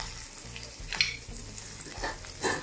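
Red chillies, a green chilli and ginger frying in a pan with asafoetida, a soft steady sizzle with occasional stirring scrapes and small crackles throughout, no voices.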